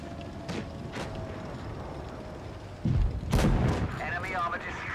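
Tank cannon fire in World of Tanks Blitz, the Chimera tank: several sharp, booming shots land at irregular intervals over a steady battle rumble, the heaviest blasts coming late and loud.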